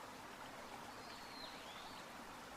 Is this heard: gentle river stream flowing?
yes